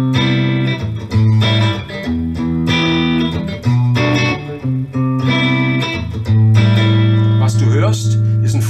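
An electric guitar set to the middle pickup position with both pickups on plays a series of sustained strummed chords, ringing out loud and alone with brief pauses between them.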